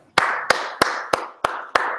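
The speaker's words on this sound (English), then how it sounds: "Got to give Lee a round of applause for that one." Six sharp, evenly spaced claps ring out close and loud, each with a short echoing tail, like a slow round of applause.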